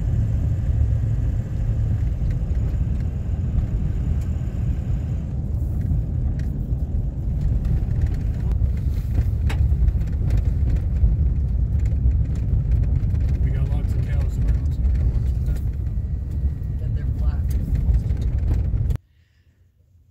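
A truck drives on the road during a long trip to Arizona, giving a steady, close, low engine rumble and road roar that continues evenly before cutting off abruptly near the end.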